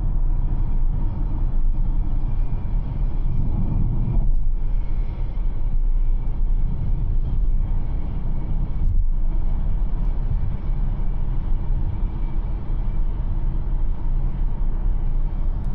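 A 2025 Audi A5 sedan accelerates along a busy road, heard from inside the cabin as a steady, loud, low rumble of engine and road noise that holds throughout with no talking.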